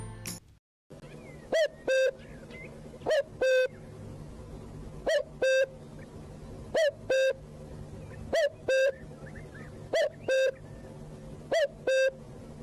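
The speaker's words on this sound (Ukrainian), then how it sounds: "Так, це зозуля. Послухайте, як вона співає." A cuckoo calls its two-note cu-coo over and over at an even pace, clear and close against soft background hiss, with no voices.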